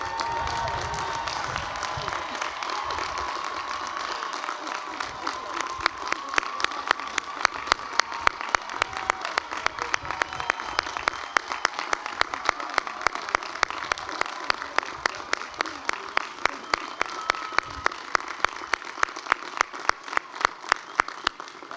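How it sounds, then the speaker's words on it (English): A large audience applauds graduates at a 2026 commencement ceremony in Macon, with steady, dense clapping and some cheering that turns into distinct, rhythmic claps and continues throughout. "So now let's make sure we all give these graduates a round of applause."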